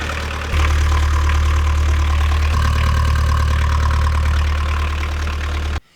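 A boat's engine idles steadily while its alternator charges the batteries, a loud, continuous low rumble with an even mechanical knock, running alone with no talk until it cuts off at the end.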